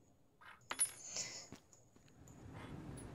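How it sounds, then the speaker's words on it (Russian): A small coin drops and clinks with bright metallic rings in the video game Papers, Please, a few quick taps and a settling jingle over a quiet background. "О, монетка."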